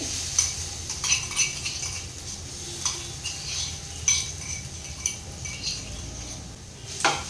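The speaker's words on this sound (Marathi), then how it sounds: "तेल इथे व्यवस्थित गरम झालेलं आहे। आता ह्यामध्ये ना जे वाटण करून घेतलं ना ते घालून घेते" Ground masala paste for a dry bombil chutney frying in hot oil on a pan, with a low sizzle under repeated clinks and scrapes of a metal spoon stirring at irregular intervals, close and moderately quiet.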